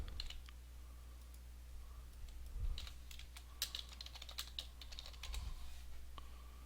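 Computer keyboard typing at close range while Java code is cut and pasted, quick irregular key clicks in bursts over a low steady hum.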